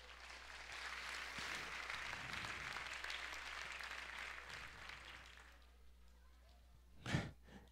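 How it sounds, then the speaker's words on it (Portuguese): A church congregation applauds for the Lord in a sustained, faint wash of clapping that fades out, followed by a short breathy sound near the end. "Pode dar outra salva de palmas para o Senhor."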